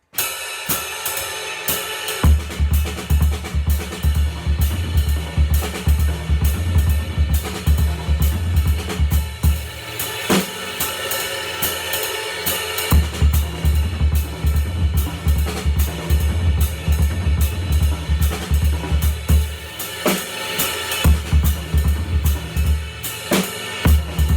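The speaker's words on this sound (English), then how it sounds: "start it with the bass drum, followed right by the snare, sounds like this." Loud, close drumming with quick kick-and-snare patterns cycling continuously, cymbals washing over the dense rhythm throughout.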